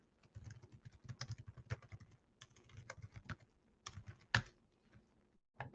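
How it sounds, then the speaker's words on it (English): Keystrokes on a computer keyboard tapping in irregular bursts and runs, with a few sharper louder key hits, close up and alone with no speech. "I don't know if you all can hear me typing or not"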